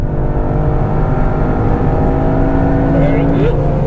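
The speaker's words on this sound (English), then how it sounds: "Bouncing off the rev limiter again, damn it!" A Toyota GR Yaris engine holds a loud, close, sustained roar at the top of its revs on a gymkhana course, droning steadily as it presses against the rev limiter.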